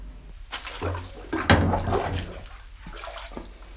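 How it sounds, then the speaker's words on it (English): Disassembled euphonium parts lowered into a bath of water to soak, with sloshing, splashing and gurgling water over a few seconds, fairly loud and close. "Now that I've got the horn all taken apart, it's time to put it in the water."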